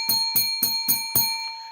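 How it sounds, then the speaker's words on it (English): A bell rings five times in quick, even succession, each strike bright and ringing with sustained high overtones that fade between hits, close and clear with no talking. "So we're going to end this with a little bit of bell ringing"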